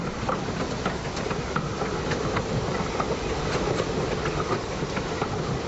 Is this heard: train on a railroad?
yes